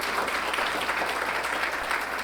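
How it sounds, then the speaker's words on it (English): An audience at a water infrastructure panel applauds for sponsors in steady, even clapping that carries on without a break, moderately loud and heard alone. "So please give an applaud when we finish the names."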